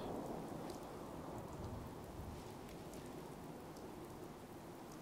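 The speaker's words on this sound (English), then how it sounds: "I'm surprised the rain doesn't give you more radiation." Steady rain pours in a post-apocalyptic video game, a constant hiss with a low rumble underneath, even and unbroken throughout.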